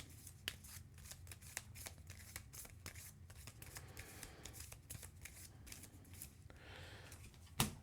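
Playing cards for a Marvel Champions tabletop card game being shuffled by hand, close and crisp, with repeated riffles and snapping bursts continuing over several seconds and no talking.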